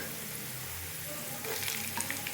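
Long slices of ginger frying in a pan for chana and mash dal, a soft continuous sizzle that brightens and crackles more in the last second, with a few light stirring scrapes and no talk.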